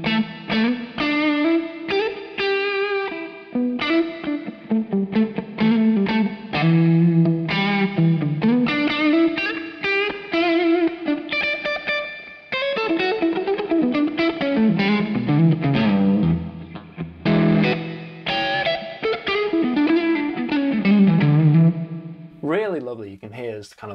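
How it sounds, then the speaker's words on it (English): Electric guitar played through a Victory The Sheriff amp with Two Notes Copper DynIR cabinet simulation, drenched in a large Cathedral reverb; continuous distorted chords and melodic lines ring out with long, spacious tails, loud and close, with no talking. "Really nice reverb that I like in here is the Cathedral."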